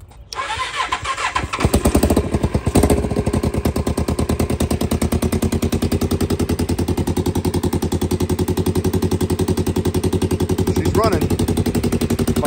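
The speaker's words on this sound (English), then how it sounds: "Definitely an exhaust leak in there." A bobber motorcycle engine sputters to life and idles roughly with rapid popping, chuffing pulses from a leaky exhaust, loud and close, with a voice speaking briefly over it.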